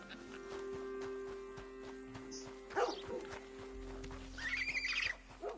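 A horse in Red Dead Redemption 2 lets out a couple of neighs and whinnies over a steady hum of game ambience, with no talking.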